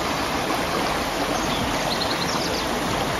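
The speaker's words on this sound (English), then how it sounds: "You see the waterfall in the back there?" Nojoqui Falls, a waterfall in the woods near Solvang, California, roars as a loud, dense and unbroken rush of falling water.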